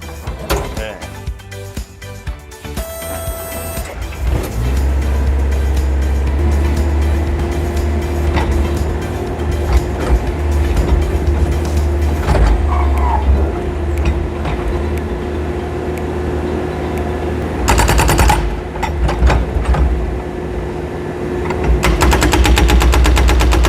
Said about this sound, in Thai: เดี๋ยวเรามาเทสหัวระบบหัวกระแทกที่เราติดตั้งกันดูนะครับ